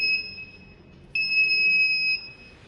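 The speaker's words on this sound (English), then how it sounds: "When the laser is not falling on the LDR, the buzzer rings." The buzzer of a laser and LDR security alarm project gives two sustained, shrill electronic tones, the second louder, separated by a short gap.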